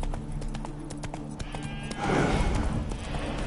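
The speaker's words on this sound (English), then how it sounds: "Spooking my horse. Roach doesn't like ghosts." Witcher 3 game audio: the horse Roach spooks, with hooves clopping on the ground and then a sudden louder burst of stamping and agitated movement.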